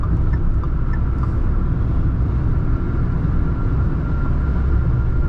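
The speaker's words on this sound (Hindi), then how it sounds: "हाँ सिर्फ विंड नॉइज़ वो जो सीटी है वही बढ़ रही है," Steady broadband road and wind roar inside a Tata Altroz DCA cruising on the highway, with a faint whistle riding over the continuous cabin rumble, constant and unbroken throughout.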